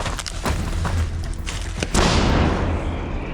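A heavy towed artillery cannon shot booms against a background of rumbling outdoor noise, followed by a sustained roar as the blast rolls away.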